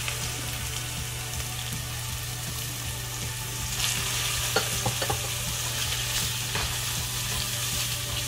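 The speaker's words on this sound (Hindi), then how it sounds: "मैं इसको अप्रॉक्सीमेटली 5 मिनट्स तक फ्राई करूंगी" Chopped vegetables stir-frying in a pan for Singaporean rice, a loud continuous sizzle with scraping and stirring clatter of a spatula, close and steady with no talk.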